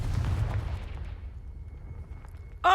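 Confringo fire spell exploding in Hogwarts Legacy: a loud low rumbling blast that decays over about two seconds, followed by a sharp bright burst near the end.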